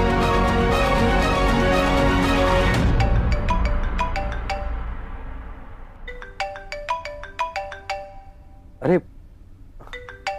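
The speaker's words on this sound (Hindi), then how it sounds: "फोन ऑन करते ही वाइफ का फोन आ गया।" A mobile phone rings with an incoming call in a Hindi TV drama scene: a bright, repeating electronic chime tune, loud and close, enters after dramatic background music fades, with a brief thud midway.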